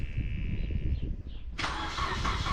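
A car engine cranking and catching with an Ancel BS200 jump starter on a battery at 11.3 volts, the starter whir giving way abruptly to a close, steady running engine.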